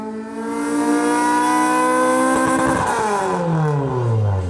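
A classic 1990s Honda time attack race car runs hard on a dyno, its high-pitched engine note climbing in a rising wail, holding near peak revs, then falling away as it slows, loud and close.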